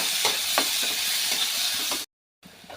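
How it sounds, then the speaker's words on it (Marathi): Onions stir-fried in a pan, a continuous hiss of sizzling with repeated scraping strokes of a spatula, close up, briefly cut to silence before the frying resumes more faintly. "यामध्येच आपण कांदा टाकणार आहोत आता परतून घेऊया"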